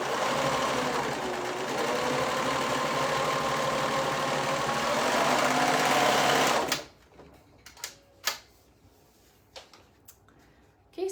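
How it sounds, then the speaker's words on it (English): A sewing machine stitches the top edges of fabric pieces together for a bow-back top, a loud, fast, steady whirring for about seven seconds that then stops, followed by scattered small clicks and handling sounds. "I'm going to sew along that top part on the long side"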